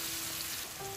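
Dried fish (shutki) hits a hot pan and sizzles, a steady, close frying hiss that lasts only a moment.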